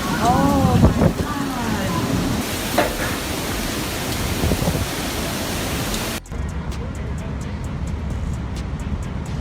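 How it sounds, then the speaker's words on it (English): Heavy rain pours steadily in southwest Missouri, a dense constant hiss with a few low rumbles of thunder, and voices talk over it in the first half before the downpour continues alone. "heavy rains caused roads to overflow, forcing authorities to issue special warnings"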